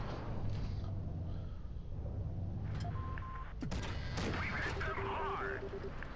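Several tank cannon shots from teammates focus-firing on one target in the World of Tanks Blitz video game, sharp booming bursts landing over a dense, continuous battle din.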